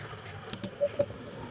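A few light, separate clicks on a computer keyboard, quiet and close, with pauses between keystrokes.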